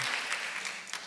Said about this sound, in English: That's people applauding you, Isabel.